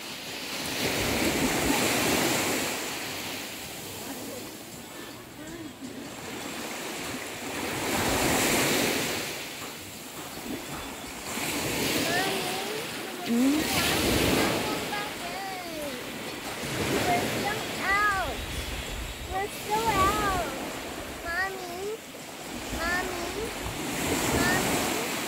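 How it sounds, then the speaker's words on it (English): Ocean surf rolls continuously onto a beach with steady wind noise, while children's high voices and chatter come and go over the wash of the waves. "They're jumping waves"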